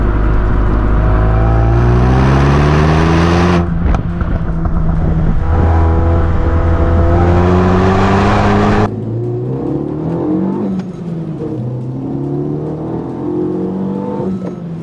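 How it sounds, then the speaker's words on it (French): Renault Megane RS 275 Trophy with Cup chassis and Akrapovic exhaust, its engine loud and close, revving up through repeated gear changes with rising pitch sweeps, then continuing to pull hard at a slightly lower level. "Et aussi on a l'échappement Akrapovic."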